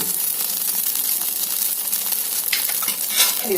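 Ghee sizzling and frying steadily in a hot pan at close range, a bright continuous crackle with a few louder spatters and stirring scrapes, no voices.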